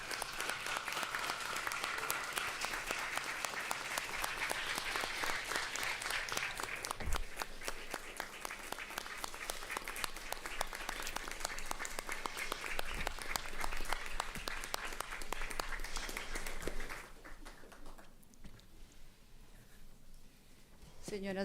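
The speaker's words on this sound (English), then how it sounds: "we would ask the audience to do so as well and give her a round of applause" Courtroom audience at a public hearing on climate emergency and human rights applauding in honor of the assistant registrar, dense sustained clapping for about seventeen seconds before it fades out into quieter room noise.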